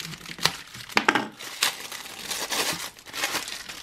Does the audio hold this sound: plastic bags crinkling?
yes